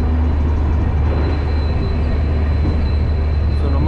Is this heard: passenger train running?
yes